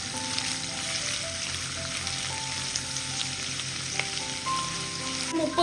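Ginger paste sizzles in a hot pan while it is stirred, giving a steady crackling fry with occasional scrapes from the spoon. The sound is close and continuous, and no one talks.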